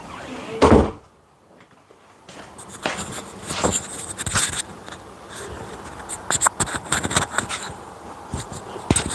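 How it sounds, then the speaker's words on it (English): A door closes with a sharp thud near the start, followed by a quiet pause and then scattered knocks, rustles and handling clatter in an indoor space. "You need to go in, close the door"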